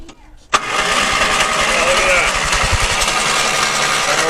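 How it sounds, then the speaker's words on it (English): A 308 Hudson engine is cranked by its starter motor after a sharp click, giving a loud, steady churning whir with a rhythmic chugging pulse, close to the listener, with a voice present. "we'll try putting a battery in and see if the starter motor will turn this thing over"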